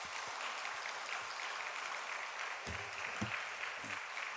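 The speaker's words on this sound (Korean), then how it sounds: "우리 뜨거운 박수로 격려하겠습니다" A congregation at a Sunday afternoon church service claps steadily throughout, a sustained round of applause with a few louder individual claps near the end.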